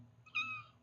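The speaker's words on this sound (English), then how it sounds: "I have a cat yelling in my ear over here." A single loud, drawn-out meow from a cat right beside the microphone, rising sharply and fading after about half a second over a low room hum.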